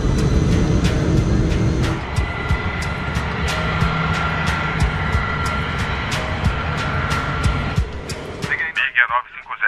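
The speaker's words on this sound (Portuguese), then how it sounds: "Decolagem agora na pista 22." An airplane takes off from runway 22 at Gander, a 3,000-metre strip, its broad engine roar filling the scene with sharp repeated clicks and radio-style voices talking over it.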